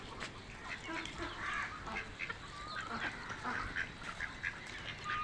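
A group of ducks, among them newly arrived ones, eat jackfruit nearby, giving steady quacking and honking calls over a constant background of farmyard noise, with no clear speech.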